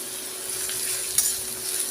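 Mashed potato with a green chili sizzling as it fries in a pan, a steady hissing crackle close up with light stirring scrapes and one brief louder clatter midway.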